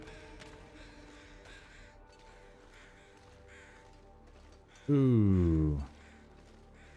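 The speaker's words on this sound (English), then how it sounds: "Did you hear those crows?" Crows call in the snowy wilderness of the video game The Long Dark, a loud, harsh caw sequence of about a second, over a faint ambient bed while a voice briefly reacts.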